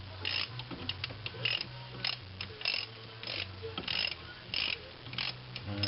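A ratchet tightens the bolts on a bicycle's rear brake, giving fast repeated clicking bursts in steady rhythm, close and clear over a low mechanical hum.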